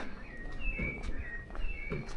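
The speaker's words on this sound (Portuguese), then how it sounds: "aproveitar esse canto dos pássaros e essa bela flora" Birds sing outdoors near a lake, with short whistled phrases repeating faintly over a low outdoor rumble and scattered soft thumps.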